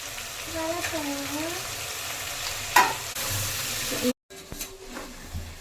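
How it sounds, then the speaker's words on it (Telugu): Tomatoes fry in a pot of goat head curry, sizzling steadily up close while a spoon stirs and knocks once sharply, followed by a brief cut and a lid being handled; a faint voice hums underneath. "టమాటా వేసుకున్నాక కాసేపు ఇలా ఫ్రై అవ్వనివ్వండి"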